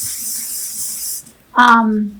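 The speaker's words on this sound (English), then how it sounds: "Another setting spray" Makeup setting spray hisses steadily from a pump bottle for about a second. A brief voice follows right after.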